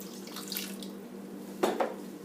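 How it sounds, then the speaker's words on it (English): Water poured from a container into a pan of frozen mixed vegetables, a brief quiet splash and trickle over faint background hum, close by with no talk. "so I just put some water."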